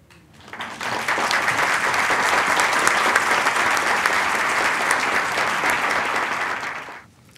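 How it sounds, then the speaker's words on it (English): An audience gives sustained applause for board members at an AARP award presentation, building quickly into steady, dense clapping that holds for several seconds and then stops abruptly. "then we'll give you a little applause"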